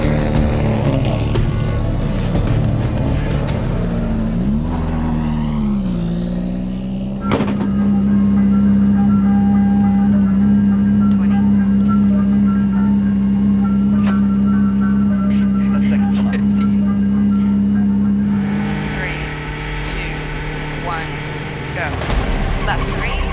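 Subaru rally race cars run short practice laps on the GRC Daytona track, a loud sustained engine drone holding steady and then rising near the end while a voice talks over it.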